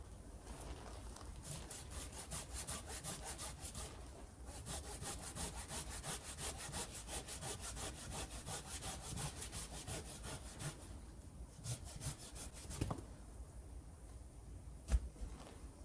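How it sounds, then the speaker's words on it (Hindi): A new hand saw cuts through a cherry tree branch with steady, rapid back-and-forth strokes that continue for most of the stretch, close and fairly loud, slowing into a few scattered rasps near the end. "वो कटाई मैं यहाँ करूँगा और उसके लिए ये मैं नई आरी का इस्तेमाल करूँगा।"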